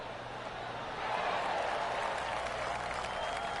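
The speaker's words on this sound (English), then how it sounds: "Oh, golf clap." A soft, polite smattering of video game applause from a small golf crowd in PGA 2K23, steady and modest, a quiet clap rising slightly after the first second.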